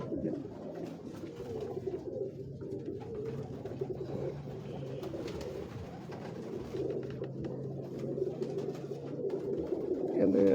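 Pigeons coo continuously on a rooftop in Lahore, a steady low murmur of many birds close by, with someone talking over them throughout.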